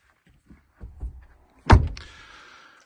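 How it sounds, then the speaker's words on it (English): An Ineos Grenadier door swings shut with a single loud, solid thunk, preceded by a few soft handling clicks and followed by a brief fading rattle, close by with no talking. "The doors sound amazing when you close them."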